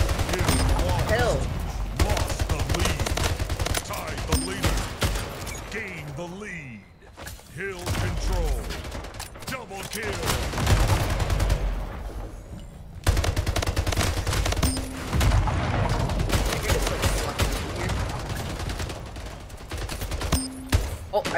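Rapid bursts of automatic gunfire in the arena shooter Splitgate, dense volleys broken by short pauses, with thuds and player voices talking over the action.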